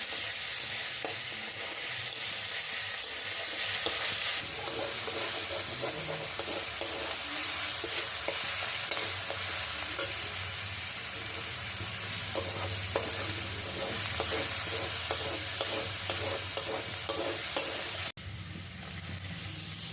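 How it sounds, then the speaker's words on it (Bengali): Onion and ginger-garlic paste stir-fried in a pan for an egg chicken tadka: a steady, fairly close sizzle with repeated scraping stirring strokes throughout, and no voices. "আদা রসুন বাটাটা দিয়ে আবারও নেড়ে চেড়ে নিতে হবে"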